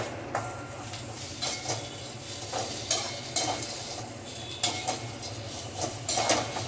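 Coconut for a curry leaf thuvaiyal is stirred in a pan, a quiet dry rustle with repeated spatula scrapes and light clinks at an even rhythm over faint background sizzle.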